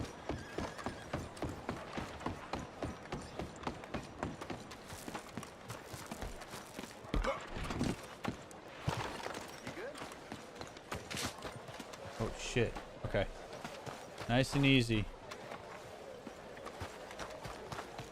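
Horse hooves clip-clopping in Red Dead Redemption 2, a steady patter of steps running under game sounds, with a player talking over much of it.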